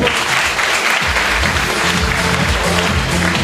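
Loud, sustained applause fills a hall at an awards ceremony for young contest participants, even and dense from start to finish.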